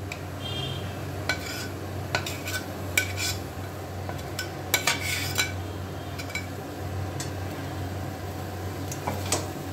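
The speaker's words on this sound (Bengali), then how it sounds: "চিংড়ি মাছটাও এঁচোড় আর আলুর সাথে খুব ভালোভাবে মিশিয়ে নিতে হবে।" Prawns being stirred into a jackfruit and potato mixture in a pan, with repeated sharp clinks of a utensil against the pan over a low steady background hum, and no talking.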